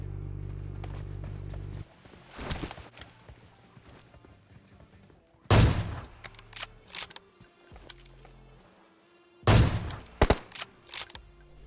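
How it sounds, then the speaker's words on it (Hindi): Gunfire rattles near a bridge in the mobile battle royale game PUBG Mobile, with several sharp loud bursts spaced a few seconds apart over engine rumble and scattered footsteps. "ब्रिज पे आता हूँ और गोलियां चल रही होती हैं।"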